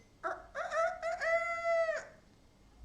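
A voice imitates a ruffed grouse hen's call during a storytelling, a short series of rising, crowing notes that ends in one long drawn-out cry, close and clear.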